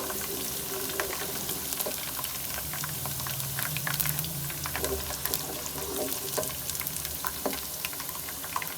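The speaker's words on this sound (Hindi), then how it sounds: "एक से 2 मिनट तक प्याज को फ्राई कर लेंगे।" Onions sizzle and crackle steadily in a hot pan, with scattered pops and the occasional scrape of stirring, no talking.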